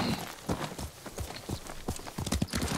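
Horse hooves clip-clop in a steady walking rhythm in the video game Ghost of Tsushima, a quiet, close sequence of hollow knocks with faint background ambience.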